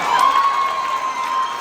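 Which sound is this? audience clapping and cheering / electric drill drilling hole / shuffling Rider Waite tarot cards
audience clapping and cheering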